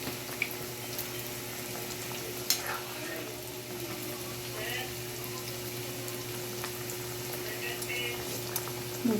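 Ginisang munggo, sautéed mung beans, cooking in a pan with a faint, steady sizzle and bubbling under a constant low hum, broken by a few soft clinks and stirring sounds.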